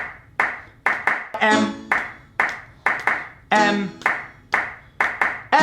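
Hands clap in a steady rhythm, several sharp near claps in a row, standing in for sung letters in a children's Purim song, broken by short sung notes.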